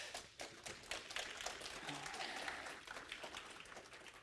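A small club audience at a DigiPen Halo Club farewell event applauds its admins, a steady, fairly faint wash of clapping that lasts throughout without pause.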